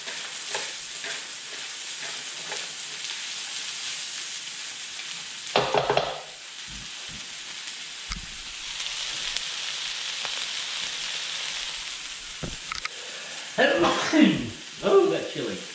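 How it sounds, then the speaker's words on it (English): Green capsicum and red onion stir-fry in a hot pan with a steady soft sizzle, broken by a few louder scrapes and tosses of the utensil, and brief talk near the end. "We're going to keep stirring off these vegetables until they're nice and tender"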